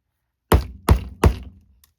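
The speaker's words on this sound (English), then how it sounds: "then you can bang it some more" A metal corner ornament is hammered further onto a journal's spine. Three sharp, heavy thunks land close together, each with a short ringing decay, followed by a faint click and no talking.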